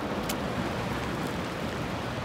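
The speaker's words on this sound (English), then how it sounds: "Cold rain here in Duluth, Minnesota, about 34 degrees." Cold rain at about 34 degrees falls steadily in Duluth, Minnesota, as an even, continuous hiss of drops with a faint low rumble beneath. No one speaks.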